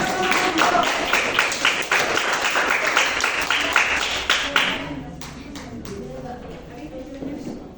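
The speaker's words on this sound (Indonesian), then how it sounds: "Tepuk tangan dulu." Applause from a group, dense clapping for about five seconds that then thins into scattered claps under people talking.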